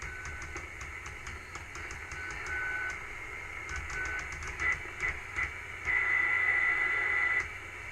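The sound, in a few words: TRC-221 CB walkie talkie static, like AM radio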